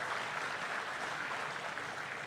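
Steady applause from a crowd, a dense wash of clapping held at an even level the whole time, heard from some distance.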